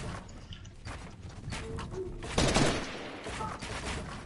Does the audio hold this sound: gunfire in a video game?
yes